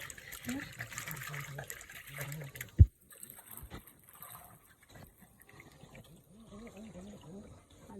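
Water runs and splashes close by at low level, with a sharp knock partway through and a voice speaking softly near the end.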